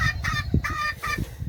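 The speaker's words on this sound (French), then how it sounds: "Fenouil fait la même chose que Happy, elle piole. Donc, je sais pas comment on pourrait dire ça, elle aboie à moitié" A four-month-old young hen gives a clucking call with a half-barking quality, several short harsh bursts in quick succession, close and fairly loud with no talk.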